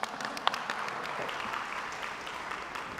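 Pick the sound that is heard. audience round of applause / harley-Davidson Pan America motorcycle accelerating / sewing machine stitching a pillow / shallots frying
audience round of applause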